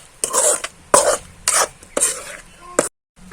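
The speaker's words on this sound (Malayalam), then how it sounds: "ഉപ്പും കൂടി ഇടാം. നന്നായിട്ട് ഇളക്കി കൊടുക്കാം." Kappilapazham pickle mixed with salt is stirred in a series of four or five loud, close scraping strokes, each about half a second long, ending in sudden silence.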